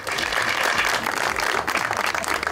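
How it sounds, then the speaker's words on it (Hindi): Studio audience applause at an Eid special talk show, a dense, steady wash of clapping held loud for a few seconds with no voices over it. "एक दफा फिर तालियां."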